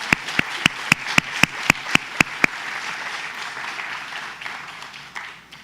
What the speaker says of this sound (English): let's take a big round of applause for all our award winners today